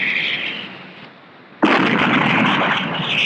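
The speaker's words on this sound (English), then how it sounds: "About to open fire now, sir." A 4.5-inch naval gun on an Australian destroyer opening fire in the Sea Power video game: engine hum fades low, then one sudden loud blast breaks in and a heavy rumbling roar sustains afterward.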